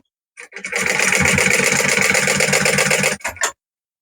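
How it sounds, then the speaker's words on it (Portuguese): A sewing machine runs in one fast, rhythmic burst of stitching along a pocket bag seam, loud and close, then stops with a short final whir. "Então, agora deixa eu fazer essa costura aqui rapidinho."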